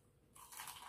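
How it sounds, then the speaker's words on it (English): A sudden crisp crunch as extra crispy Southern fried chicken is bitten into, a loud close-up bite followed by a few crackly chews. "Very crunchy. This is a crunchy one"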